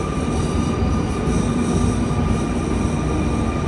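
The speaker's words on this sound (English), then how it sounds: "This is a long train. Very long train." A long passenger train in Paris running toward Invalides makes a loud, steady rolling rumble, with high metallic wheel squeal ringing through it, heard close from on board and without voices.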